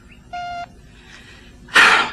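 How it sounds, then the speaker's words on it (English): An answering machine gives a single clear electronic beep that cues the caller to leave a message. A brief faint tone comes first, and a sharp breathy burst follows soon after. "Please wait for the beep and leave a short message."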